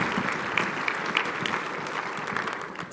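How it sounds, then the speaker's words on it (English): Keynote audience applauding at a conference welcome session, a steady, dense wash of clapping from a sizeable crowd, fairly even in loudness throughout and easing slightly at the end. "Please give her a round of applause as she comes up."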